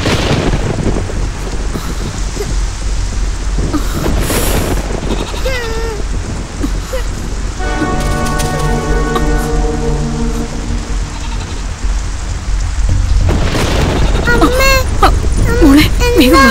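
Heavy rain pours down steadily with low thunder rumbling through it, while voices and a wailing, crying-like sound rise over the downpour partway through.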